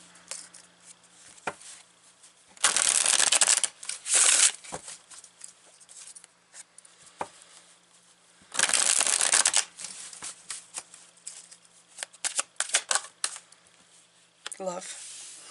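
Tarot cards being shuffled close by during a reading, with two louder riffling bursts among soft card handling and taps, and quiet room tone between.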